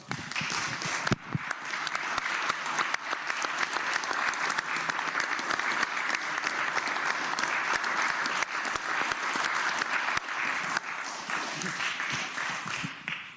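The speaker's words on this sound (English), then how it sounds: "I hope we'll give them a round of applause" Sustained applause fills the Senate of Virginia chamber, many hands clapping steadily and evenly for over ten seconds, dense and moderately loud throughout with no voices standing out.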